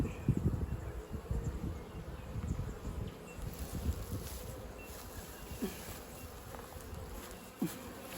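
Honeybees buzz in a steady, close drone around a hive at an Australian apiary, with individual bees whirring past now and then against faint rustling.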